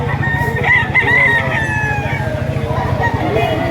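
A rooster for sale at a Lipa, Batangas poultry market crows near and loud amid steady background noise, with someone talking over the scene.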